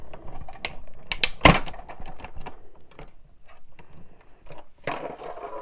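Embossing plates cranked through a manual die-cutting machine, giving irregular mechanical clicks and rattling ratchet-like bursts close up, with a few sharper clacks early and a louder grinding stretch near the end.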